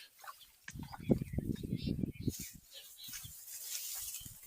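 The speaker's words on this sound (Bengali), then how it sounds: "পাখির কিচিরমিচির শব্দে মুখরিত চারিপাশ।" Birds chirping around a golden rice paddy, scattered small calls over outdoor ambience along with some low rustling, fairly faint and in the open air.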